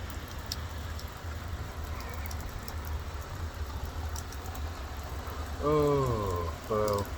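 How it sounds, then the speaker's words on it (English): Heavy rain falling in Krakow, Poland, a steady close hiss of downpour on surfaces with scattered drips, with a voice speaking briefly over it toward the end. "It's raining so much now."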